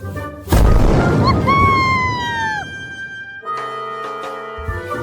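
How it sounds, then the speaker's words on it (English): Cartoon magic blast in an animated children's show: a loud, booming explosion bursts in, followed by bright swooping whistle tones and a shimmering musical sparkle, with no talk. "They throw their magic into the sky. Boom! A beautiful blast."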